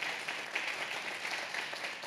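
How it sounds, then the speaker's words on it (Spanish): Soft, distant applause rises from a symposium audience on Neotropical carnivore conservation, a brief even patter of many hands with no voices over it. "quisiera dar un aplauso a Catherine y Orca"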